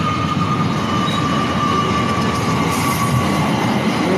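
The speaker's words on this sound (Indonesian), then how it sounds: "Ada kereta yang mau lewat." A train from Bandung rolling past on a village railway line, a loud, steady rumble and rattle of wheels on track with a faint high squeal, close by and continuous.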